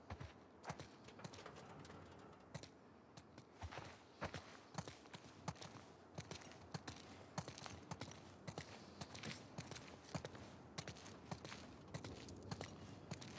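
Horse hooves clip-clop steadily in The Last of Us Part II video game, a quiet, continuous run of soft irregular hoofbeats.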